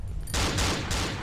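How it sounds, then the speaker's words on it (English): Gunfire in the horror game Cry of Fear erupts abruptly after a brief lull into a loud, dense volley of rapid shots that keeps going. "Oh! I'm getting shot at!"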